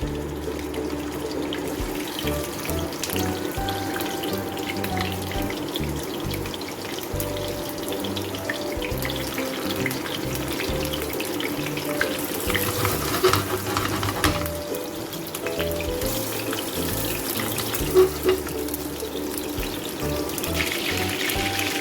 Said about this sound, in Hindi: उसमें अब हम इसको शैलो फ्राई करेंगे, सिर्फ कलर आ जाने तक